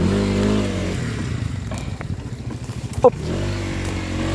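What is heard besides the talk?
Skygo Lance 150 motorcycle being reversed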